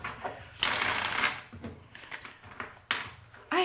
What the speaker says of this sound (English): I will first shuffle this deck